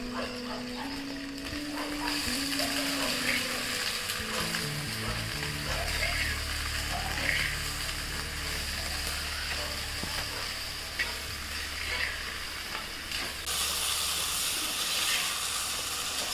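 Ivy gourd (tindora) frying in a pan, a steady close sizzle and hiss running throughout with occasional stirring scrapes, no voices.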